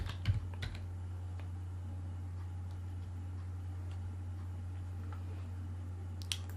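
Typing on a computer keyboard, a few quiet scattered key clicks near the start and end over a steady low electrical hum, with no talking.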